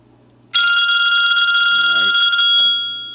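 An incoming Talkatone internet call rings loud and close on a phone, a steady electronic ringtone lasting about two seconds, followed by a brief short chirp; a voice murmurs briefly under it.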